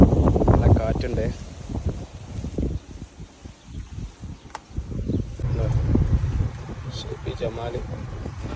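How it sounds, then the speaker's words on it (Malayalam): Strong outdoor wind buffets the microphone in gusting, rumbling waves that rise and fall, while a person talks over it. "നല്ല കാറ്റുണ്ട്."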